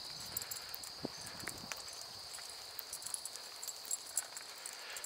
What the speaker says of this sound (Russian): Какие-то эти только стрекочут.